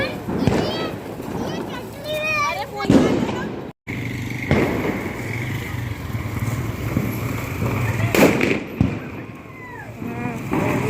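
Firecrackers go off at a Tulsi vivah celebration, with a couple of sharp bangs and crackling bursts heard amid children's and adults' chatter that continues throughout.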